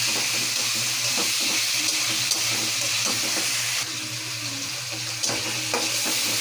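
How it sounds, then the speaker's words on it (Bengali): Tomato and ginger-garlic paste sizzles steadily in hot oil in a pan, a continuous close hiss with faint stirring scrapes and no voices. "ভাজা ভাজা করে নিচ্ছি।"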